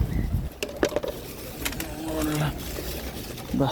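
A flock of hungry pigeons waiting for feed coo in low, throaty repeated calls nearby, mixed with rustles, wing flutters and a voice speaking.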